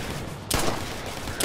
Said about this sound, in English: Now I want you all to test fire those weapons